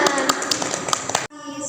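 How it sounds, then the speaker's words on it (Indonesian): Students clapping hands in a classroom during a microteaching game, a quick run of sharp claps close by over a murmur of voices, cutting off abruptly into a short tonal sound. "Beri tepuk tangan."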